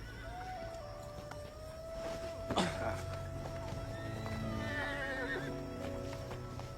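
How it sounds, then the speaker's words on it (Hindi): A horse gives a loud, shrill whinny partway through, with softer snorts and faint hoof clops before and after, heard close over a quiet outdoor background. "अभी के लिए तुम हमारे घोड़ा पर आओ।"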